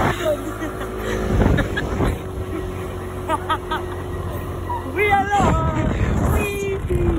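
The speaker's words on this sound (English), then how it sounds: "We went on a moped though, guys." A moped engine hums steadily under rushing wind noise, with people chattering and laughing over it.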